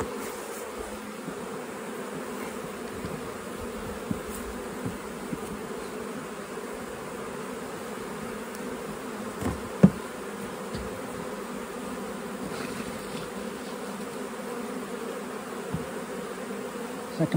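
Honey bees buzz around their hive on a day when they are flying again after snow. A steady, even drone holds for the whole stretch at a moderate distance, with no voices over it.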